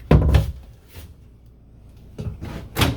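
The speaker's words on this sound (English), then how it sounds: "Pull up drawer, and that's soft close as well. That's pretty slow soft close." Soft wooden thuds and sliding rumbles as a soft-close bathroom cabinet drawer in a 2021 Montana 3763BP fifth wheel is moved and eases slowly shut, a couple of gentle knocks separated by a quiet pause.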